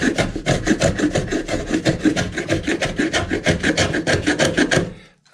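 A hand tool shaves the wood of an acoustic guitar end wedge with about twenty quick, rhythmic rasping strokes, close and loud, before the strokes stop.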